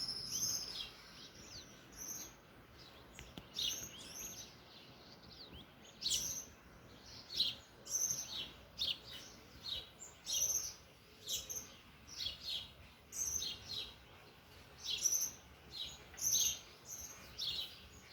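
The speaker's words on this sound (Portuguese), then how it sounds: "O melhor som para se ouvir, passarinhos." Small birds sing in a backyard at dawn, their bright high chirps and trills repeating throughout, near and far voices overlapping over a soft, faint hum of insects.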